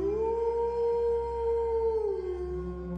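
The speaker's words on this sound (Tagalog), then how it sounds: "narinig na naman namin ang alulong na parang narinig ko ng ilang beses kagabi" An animal howls at night, one long sustained wail held steady before sliding down in pitch at the end, loud and alone over a low background hum.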